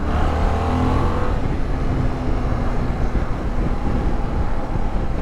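A 2024 Yamaha Tracer 7 GT motorcycle engine roars up close in third gear at about 3,500 rpm and 40 mph, pulling hard with a rising, rough drone, mixed with heavy wind rush.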